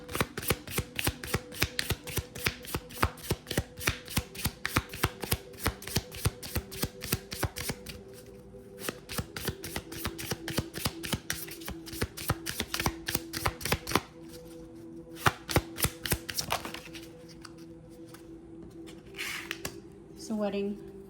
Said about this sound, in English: So I'm just gonna pull some cards.